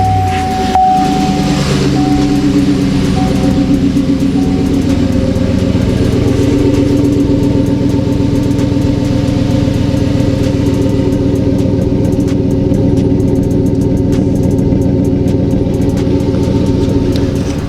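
A Chevy truck engine cranks and catches, then settles into a steady, loud, close idle that runs on unchanged for over fifteen seconds, with no talking.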